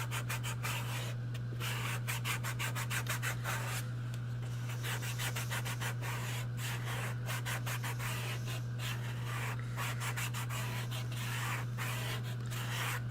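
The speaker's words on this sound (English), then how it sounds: "This is my my 150 sanding stick." Rapid rhythmic rubbing strokes of a 150-grit sanding stick scratching back and forth continuously over a steady low hum.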